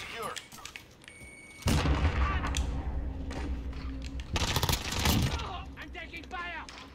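Gunfire in Call of Duty Modern Warfare, Shoot House map with an MP5: loud bursts of shots and booming impacts break in partway through, with a second heavy burst later, under game noise and a player talking.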